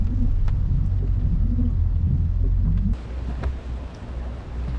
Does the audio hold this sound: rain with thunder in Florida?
yes